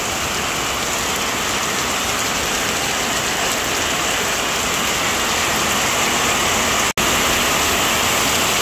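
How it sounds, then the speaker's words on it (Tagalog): Heavy rain pours down steadily, a dense, loud hiss of drops hitting surfaces, constant throughout with a brief dropout near the end. "Sobrang lakas po ng ulan."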